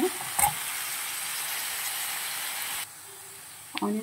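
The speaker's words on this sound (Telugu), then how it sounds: "బాగా ఫ్రై అవ్వాలి ఆనియన్స్" Onions sizzle steadily in a hot pan with oil, a continuous broadband frying hiss close by, with a brief stir or clatter near the start and again at the end and a quieter lull just before it.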